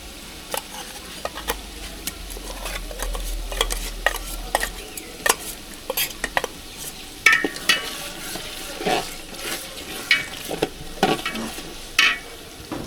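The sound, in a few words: sizzling and stirring cumin and coriander paste with ginger and garlic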